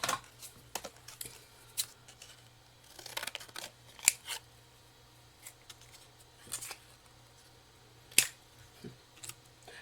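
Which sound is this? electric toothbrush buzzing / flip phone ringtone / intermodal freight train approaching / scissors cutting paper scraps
scissors cutting paper scraps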